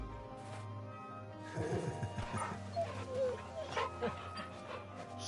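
A dog in Final Fantasy XVI lets out a quick run of yips and barks over a low game ambience, fairly close and moderately loud, then a few scattered yelps.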